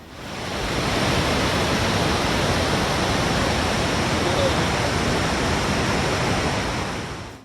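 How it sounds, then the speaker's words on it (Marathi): Montmorency Falls near Quebec City gives a steady, loud, unbroken roar of falling water that fades in, holds at an even level and tapers at the very end. "हा धबधबा नायगरापेक्षा 30 मीटरने जास्त उंच आहे"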